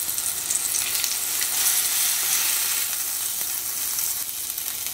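King fish (surmai) tikka frying in a pan, a steady bright sizzle and crackle that holds loud and even throughout with no talking.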